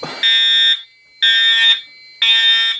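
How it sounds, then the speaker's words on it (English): A smoke detector alarm sounds three loud, steady, high-pitched beeps, each about half a second long, separated by short silent gaps, close to the listener. "the smoke detector didn't activate"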